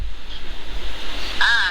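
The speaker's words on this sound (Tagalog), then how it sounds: "ang lakas ng hangin na." Strong typhoon wind roaring in a steady broadband rush with low buffeting against the microphone, plus a brief higher whistling tone near the end.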